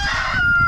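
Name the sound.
chickens clucking in a backyard flock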